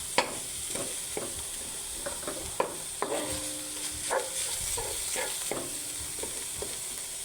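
Ground meat sautéing in a pan for ginataang gulay, with a soft steady sizzle broken by repeated scraping strokes of a spoon stirring, fairly quiet and close, with no talking.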